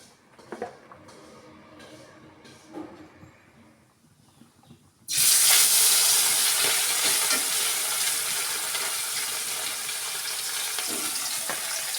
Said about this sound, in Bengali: দেখি এখন মাছগুলো দিয়ে দিই